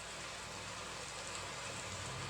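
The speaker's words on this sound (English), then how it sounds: "you may notice the sound of the rain in the background" Steady rain falls outside throughout, a dense, even hiss with no breaks and a faint low hum beneath it, with no voices.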